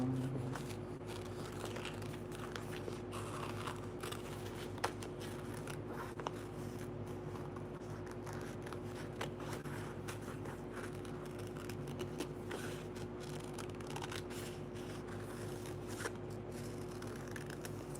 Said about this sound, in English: it's going to take a pretty decent amount of time to cut all this out